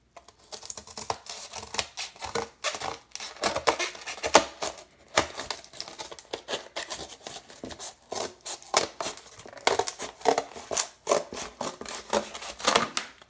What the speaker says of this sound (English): I'm going to cut along the line using a trusty old pair of scissors.